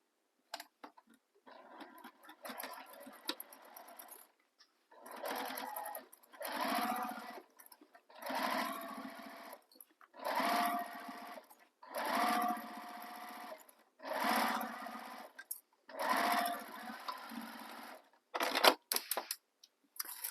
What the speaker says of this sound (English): we're going to sew along this bottom edge using the seam allowance given in the pattern